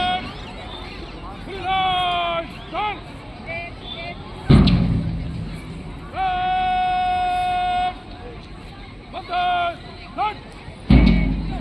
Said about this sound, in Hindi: तीनों प्लाटूनों के अब फर्स्ट फायरिंग का समय